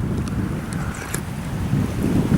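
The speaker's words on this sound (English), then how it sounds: "Oh, big wind." Strong wind gusting beside a river, a steady low roar of buffeting against the microphone that swells toward the end, with no talking.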